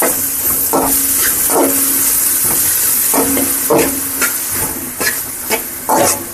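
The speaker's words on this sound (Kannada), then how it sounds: "ಶುಂಠಿ ಬೆಳ್ಳುಳ್ಳಿ ಪೇಸ್ಟ್ ಹಾಕ್ಕೊಂಡು ಚೆನ್ನಾಗಿ ಇದನ್ನು ಬಾಡಿಸ್ಕೊತೀನಿ" Ginger garlic paste sautés in a pan, a continuous loud sizzle and hiss with repeated scraping strokes of a spatula stirring it at a fairly regular pace, close up and with no voices.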